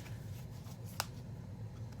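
Tarot cards being shuffled by hand, a soft papery riffle with one crisp snap near the middle, quiet and close, heard alone.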